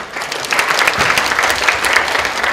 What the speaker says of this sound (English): So let's applaud to show our appreciation.